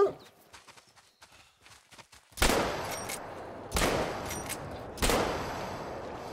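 Three loud shotgun blasts ring out in theHunter: Call of the Wild, each sharp crack spaced about a second and a half apart with a decaying tail, after a stretch of faint footsteps and rustling.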